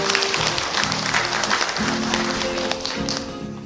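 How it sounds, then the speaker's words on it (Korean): An audience at a Seoul Jung-gu Cultural Center 30th anniversary ceremony in a large hall applauds to welcome the council chairman to the podium, a steady wash of clapping over a low, sustained tonal hum. "여러분 힘찬 박수로 맞이해 주시기 바랍니다"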